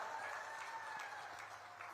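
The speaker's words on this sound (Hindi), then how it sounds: "जोर से ताली बजाओ" A large crowd applauds steadily at a BJP election rally in Badnawar, Madhya Pradesh, a dense, continuous wash of clapping heard from a distance at moderate volume.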